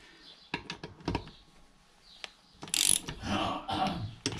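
A torque wrench ratcheting while tightening nuts on a Lambretta TS1 scooter: short clicking bursts in quick clusters, then a longer rougher ratcheting run, close and fairly quiet, with no talk.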